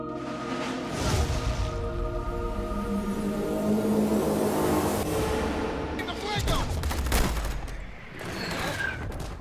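World War II battle gunfire and bullet effects for Hacksaw Ridge, a dense fusillade of shots and impacts with booms and whooshes, loud and layered, partly under someone talking.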